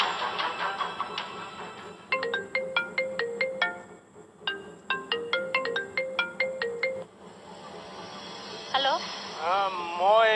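A phone ringtone plays a bright, repeating melody of short beeping notes, in two bursts with a brief pause between, fairly loud and close.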